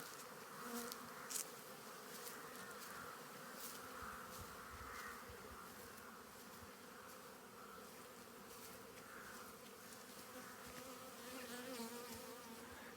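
Steady, dense buzzing of many honeybees at an apiary, continuous and fairly close, with no voices, a low droning hum that never lets up.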